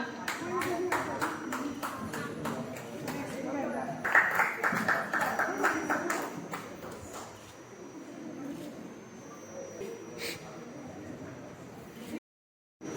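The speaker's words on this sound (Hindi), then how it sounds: "सीता कुशवाहा बैंक के लिए जोरदार तालियां।" A crowd claps at a Hindi book launch ceremony, with steady rapid claps for most of the stretch that thin out near the end, under a speaking voice and occasional bird sounds.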